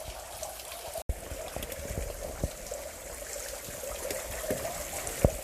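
A small waterfall trickles and splashes inside an old metal mine in the woods, a faint steady stream of falling water with occasional sharper drips and echoes.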